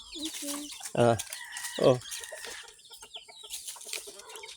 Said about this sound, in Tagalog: pakainin mo na yung chicken